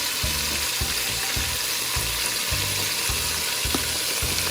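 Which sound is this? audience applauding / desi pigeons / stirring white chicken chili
stirring white chicken chili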